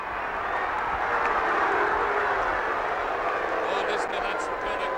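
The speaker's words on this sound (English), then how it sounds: "Oh, listen to that St Kilda crowd." A large St Kilda football crowd at a 1966 grand final against Collingwood roars in a broad, sustained wash of cheering that swells and holds across the whole stretch.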